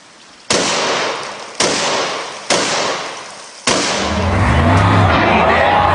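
A 12-gauge shotgun fires four loud, close blasts at uneven intervals, each with a sharp crack and ringing decay. Rushing noise follows the last shot.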